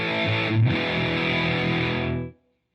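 An electric guitar chord rings through a distortion pedal set to its other channel, a dense, saturated sustained tone that holds for about two seconds and then is cut off abruptly, with no talking.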